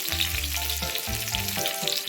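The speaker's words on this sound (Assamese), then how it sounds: "তেলখিনি গৰম হোৱাৰ লগে লগে মই ইয়াত কটা পিঁয়াজ দি দিছোঁ" Chopped onions fry in hot oil for an Assamese fish tenga, a steady loud sizzle running throughout with no talk.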